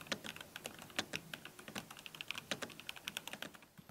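A Mi Z980 PRO mechanical keyboard fitted with VC Pro switches is typed on in quick, steady keystrokes, each a crisp close clack, with no voices.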